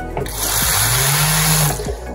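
Water is pumped through a small generator that lights an LED, giving a loud, steady rushing and churning with a rising whine as it comes up to speed, with no one speaking.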